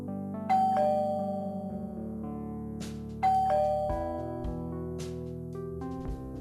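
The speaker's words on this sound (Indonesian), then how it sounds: "aku dikejutkan oleh suara bel berbunyi" A doorbell chimes twice in a clear ding-dong pattern, each ring loud and close with tones ringing out and overlapping as they fade, heard alone without voices.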